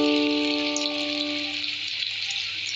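Food frying in a pan with oil gives a steady, close sizzle throughout, with a brief tonal hum at the start and no speech.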